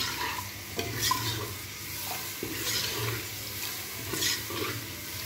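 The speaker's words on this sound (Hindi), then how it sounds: "फिर अब इसकी अच्छी तरह से भुनाई कर रही हूँ मैं।" Masala with yogurt stirred and fried in a pan, a steady close sizzle with repeated scraping strokes of the spoon against the pan, no talking.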